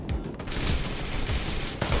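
Rapid gunfire crackles in the action video game Wanted: Dead, a dense, loud burst of shots with a sharp crack near the end.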